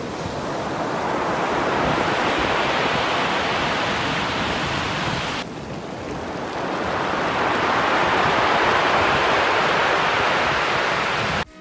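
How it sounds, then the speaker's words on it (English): Steady roar of surf washing over a stony beach on the Oregon coast, with a rattling, applause-like wash of rolling basalt cobbles, loud and continuous with a brief dip midway. "when the waves move in and out, the stones make this super unique sound like applause."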